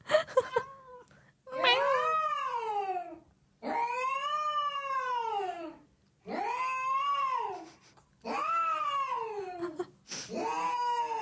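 A mother cat with kittens lets out a run of long, drawn-out wailing meows, five or six loud close cries separated by short pauses, with a few brief sounds before the first one.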